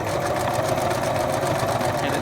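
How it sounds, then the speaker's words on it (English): A home sewing machine runs steadily on a straight stitch, a close, continuous mechanical whirr with rapid rhythmic ticking from the needle, holding an even level throughout with no talk. "And it sews."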